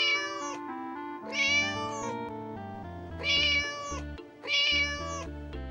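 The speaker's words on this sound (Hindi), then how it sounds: "रास्ते में उसे एक बिल्ली दिखाई देती है" Cartoon cat meowing in an animated Panchatantra story, several long drawn-out meows in a row, loud and close with a musical backing underneath.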